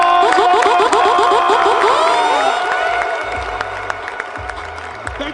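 A crowd at a Crawford Nation event in Omaha cheering and applauding after a birthday song, with whoops and shouts over dense clapping that fades after a few seconds, leaving scattered claps and a voice over a loudspeaker.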